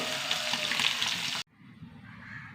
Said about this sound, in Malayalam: നന്നായി വഴറ്റേട്ടാ.